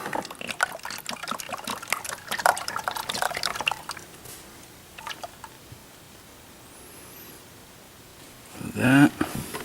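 Engine oil poured into the engine of a 2009 BMW X6 E71 35i, a liquid stream trickling and dripping for the first few seconds, fading to quiet, then a brief louder splash near the end.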